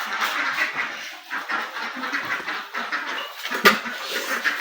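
Flock of deshi ducks quacking busily on a farm before feeding, overlapping calls close by, with scattered bird and animal noises in the background.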